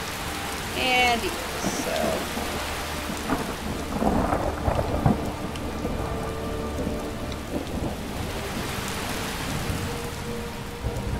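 Steady rain and distant rumbling thunder at the stables in the video game Skyrim, a continuous soft wash with a few louder patches, while someone speaks briefly over it.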